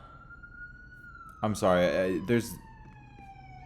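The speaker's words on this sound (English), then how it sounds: "like a siren. I don't know if you can hear it." A siren sounds outside as a steady, thin wailing tone held throughout, fairly distant and faint, while a person briefly talks over it partway through.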